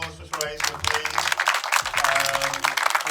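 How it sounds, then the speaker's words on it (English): Audience applause at a film festival awards ceremony, dense clapping spread across the room that continues steadily for a few seconds with some voices mixed in. "Create a big applause for Teresa, please."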